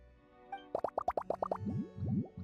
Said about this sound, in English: I'm gonna add all the remaining ingredients. Lizard tails, fish scales, mucus, and the slime condensate.